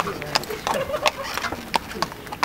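A horse's hooves clip-clop on a hard surface in a series of sharp, irregularly spaced knocks, close and fairly loud, while voices talk in the background.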